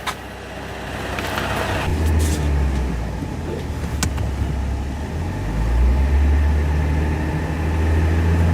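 A car driving up onto low-profile portable hydraulic car ramps rated for 11,000 lbs: a loud, close engine drone rising and falling as the vehicle creeps forward, with a brief sharp knock partway through.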